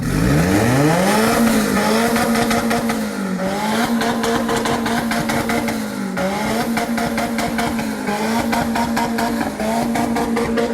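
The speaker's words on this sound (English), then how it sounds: "I start it up, and I hit rev limiter for like 10 seconds" A turbocharged Honda Civic engine held against its rev limiter, a loud, steady high-rpm drone that repeatedly dips and surges as the limiter cuts in, running continuously for about ten seconds with no talking.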